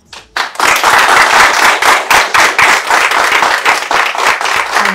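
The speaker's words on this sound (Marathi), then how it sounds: "या अशाच टाळ्या सगळ्या कामांसाठी तुमच्या मिळू देत" An audience at an interview breaks into loud, dense applause after a brief quiet moment, with many hands clapping continuously to the end.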